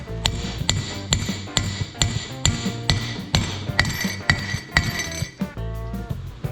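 Steady, evenly spaced metallic hammer blows drive a wheel bearing race into a front brake rotor on a 2002 Ford Ranger 2WD, ringing close and loud. The strikes turn sharper and clinkier near the end as the race seats.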